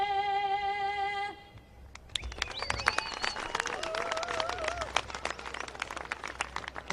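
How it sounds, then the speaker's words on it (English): Crowd applause at a BMX racing national championship after the Australian national anthem: the sustained final sung note cuts off, then dense clapping swells and continues with scattered cheers and whistles, moderately distant. "Keep the applause going."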